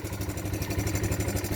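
A Yamaha Breeze 125 ATV engine idles steadily outdoors, a close, even low putter with a rapid regular pulse and light mechanical clatter, running alone without talk.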